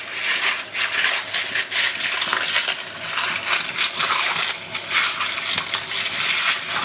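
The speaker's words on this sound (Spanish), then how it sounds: "Los lavamos bien con agua." Running water from a tap splashes steadily over something being rinsed, a continuous bright hiss with small clinks and sloshes throughout, close and fairly loud with no talking.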